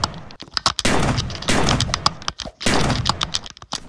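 Shotgun fire in a Roblox game comes as loud, close bursts of rapid blasts, clustered in several volleys with short gaps between them.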